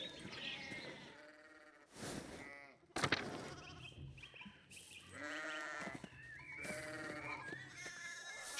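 Sheep in the medieval video game Pentiment bleat in a series of wavering calls, some close and some farther off, broken by a few sharp game sounds and low background music.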